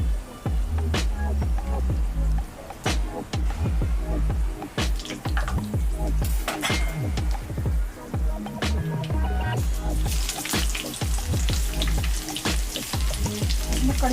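Coriander seeds sizzling and crackling in hot oil left from frying pakoras, a loud, steady hiss with sharp pops and clicks, partway through making moong dal kadhi.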